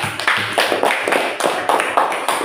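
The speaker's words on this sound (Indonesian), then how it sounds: "Tepuk tangan untuk kelompok 3." A classroom group claps in applause for group 3, a quick run of sharp, close hand claps repeating steadily for a couple of seconds.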